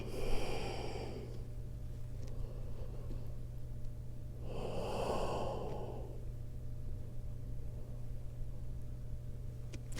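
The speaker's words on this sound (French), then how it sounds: "Et on respire dans notre dos. Encore 2 grandes respirations." Two long, deep breaths taken during a Pilates class in a resting position, seated back on the heels, each an audible close exhale a few seconds apart over a low steady hum.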